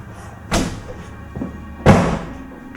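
A door in a quiet room, moving by itself with no breeze, gives two thudding bumps, a softer knock between them and a heavier, fuller thump near the end, close by against a faint hum.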